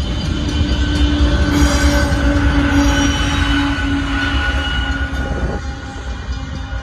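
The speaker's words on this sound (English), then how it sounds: "there goes the Northbound Union Pacific Center run" A northbound Union Pacific sand train rolling past on Oltorf Street in Austin, Texas, with a loud, sustained rumble of wagons and wheels, steady metallic squeals and screeches, close by and with no voices.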